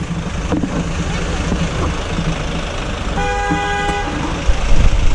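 Steady road traffic noise in Korea, heard from a bicycle path on a windy day, and a car horn gives one short honk partway through.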